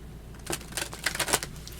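Tarot cards riffled and shuffled in a few quick bursts, crisp papery flutters close by, with no talking.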